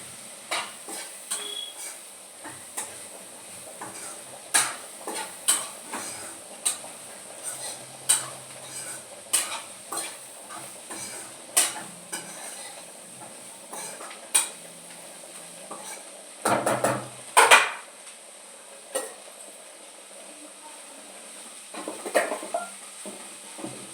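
Spiced cluster beans (guar) being roasted in a pan with coriander, with repeated metal spoon scrapes and clinks against the pan over a soft, steady background, close and moderately loud.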